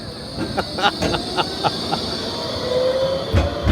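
Train at a UK station with a hissing, rumbling idle, intermittent knocks and a brief wheel squeal, heard from nearby with no talk.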